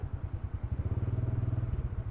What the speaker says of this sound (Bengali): এদিক দিয়ে বাইক নামবে নামবে